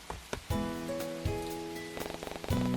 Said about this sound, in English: the rain only seems to get heavier the moment he leaves